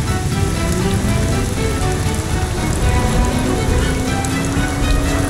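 Rain in the racing game Assetto Corsa, heard from a Koenigsegg Jesko, a loud, steady wash of rainfall hiss layered over a low engine drone, continuous and close with no talk.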